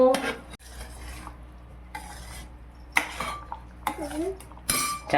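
Paneer masala curry stirs in a pan with intermittent scraping and clinking of a spoon against metal, over a soft background sizzle.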